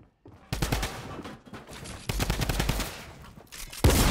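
Drum gun firing in Fortnite: long sustained bursts of rapid automatic shots, loud and close, broken by short pauses, with no talk over them.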